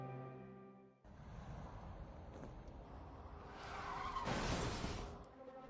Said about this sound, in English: the truck driver slammed on the brakes, narrowly avoiding a catastrophic collision